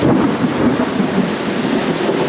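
A steady, dense hiss of rain falls continuously at a campsite in Shenandoah National Park, with a low rumbling undertone and no voices.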